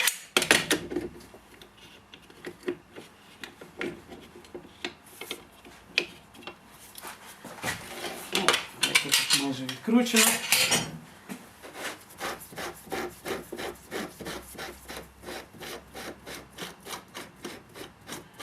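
A wrench works parts loose while a Soviet-era 12-ton jack is taken apart, giving close scraping and rubbing metal-on-metal sounds that build into a fast, steady run of ratcheting ticks toward the end, with no talking.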